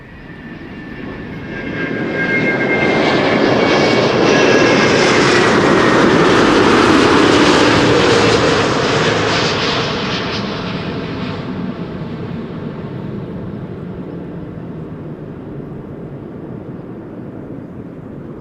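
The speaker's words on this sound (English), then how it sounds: "The Emirates A380, and we have front row seats here at AMS Live" An Emirates Airbus A380 airliner arrives at Schiphol Airport, its jet roar swelling from a distance to a loud peak overhead, then easing back to a long fading rumble.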